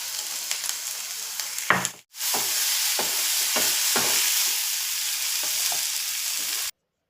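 Chopped tomatoes and onion with a pinch of salt sizzle steadily in a hot oiled pan, broken early by a few scraping stirs, then a continuous loud hiss that cuts off abruptly.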